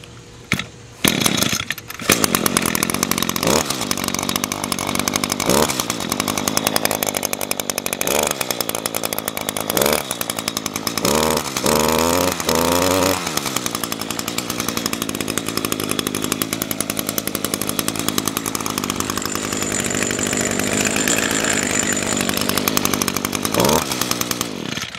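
An orange chainsaw runs right after a cold start, with a few sharp pulls and sputters, then a loud, steady idle and revving close by, broken by brief throttle blips and dips; no talking.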